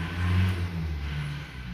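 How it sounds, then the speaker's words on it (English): A large truck passing outside, a brief low engine rumble heard indoors that swells and then eases off, muffled and at a moderate distance. "There was a large truck passing outside."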